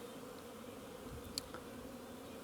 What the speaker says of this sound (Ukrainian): Ось так пасіка загула.